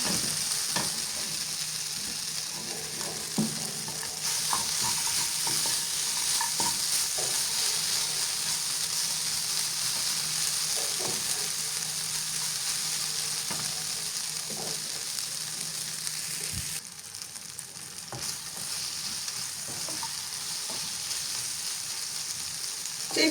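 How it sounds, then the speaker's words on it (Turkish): Rice and coarsely chopped walnuts roast in oil in a pan, giving a continuous soft sizzle with occasional stirring scrapes and clicks, moderately close and steady throughout. "Pirincikler de kavruldu."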